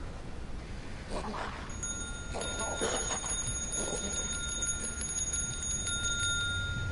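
Repeated bell chimes in a video game, bright metallic rings struck in quick succession over a steady electronic tone, with a voice talking faintly underneath.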